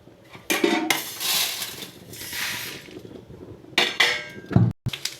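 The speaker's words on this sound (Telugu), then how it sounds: "శనగపప్పు, ధనియాలు, జీలకర్ర, ఎండుమిర్చి ఫ్రై అవుతున్నాయి. ఎల్లుల్లి కూడా వేసి ఫ్రై చేస్తున్నాం." Chana dal, coriander seeds, cumin and dried red chillies roast in a metal pan with busy clattering and scraping in bursts, loud and close, ending in a few sharp knocks.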